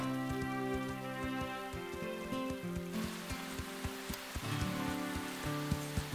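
Steady rain patters on a surface, a continuous dense drizzle of drops with a soft musical tone underneath.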